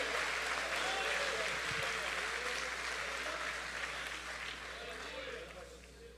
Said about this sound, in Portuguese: Você pode aplaudir a Ele, a Ele, a Ele, Jesus Cristo.